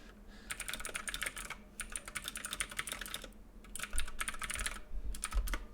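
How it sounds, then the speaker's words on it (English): Rapid, loud clicking of a new computer keyboard being typed on, steady bursts of keystrokes with brief pauses, close and alone with no talk. "I have a new keyboard too, so listen to how loud it is."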